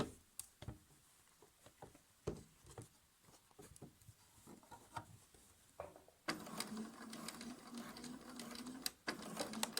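Sewing machine stitching a quilt piece, first a scattering of soft ticks and clicks as the fabric is handled, then a steady, louder mechanical whir of continuous stitching over the last few seconds.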